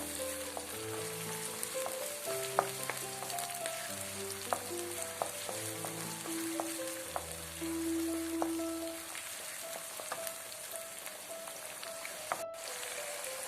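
Onions frying in a pan for chilli chicken curry, a steady close sizzle and crackle with scattered pops and bubbling throughout, no voices.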